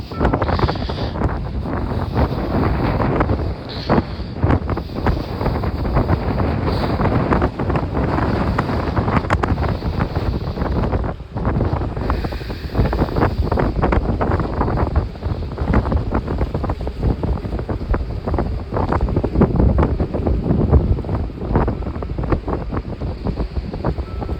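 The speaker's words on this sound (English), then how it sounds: "Extra windy right here." Strong wind gusts roar steadily across a beach at night, a dense, continuous rushing blast from start to finish, with waves likely buried beneath the buffeting.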